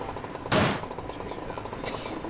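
A single loud gunshot bursts from a firearm in the video game GTA Vice City, followed by faint game ambience and a softer distant pop.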